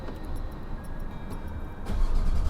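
A Porsche 992 Carrera 2 engine cranks and catches near the end, with a rising low rumble over a steady idle-like background hum.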